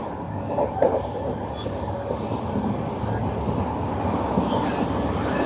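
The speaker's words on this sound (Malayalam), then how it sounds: "ഇത് ഏത് വണ്ടിയാണ് ഈ വരുന്നതെന്ന്" A train approaching a railway station on the Parassala to Nagercoil line gives a steady, continuous low rumble throughout, with a faint higher clatter at times and no clear voices.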